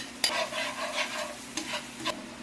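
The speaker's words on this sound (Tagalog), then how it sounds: "ilalagay ko na yung butter. After ng butter, garlic." Garlic sautés in melted butter in a pan, a soft sizzle broken by a few scraping stirs of a utensil, close and fairly quiet, no voices.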